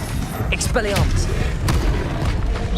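An Expelliarmus spell cast in Hogwarts Legacy, heard as a boom with a bright sweeping zap and sharp impacts over rumbling battle noise, while a voice talks throughout.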